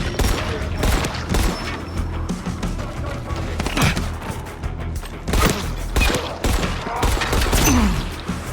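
Heavy gunfire and booming impacts in Dying Light The Beast, a loud, busy barrage of shots and thuds running throughout, with a voice talking now and then.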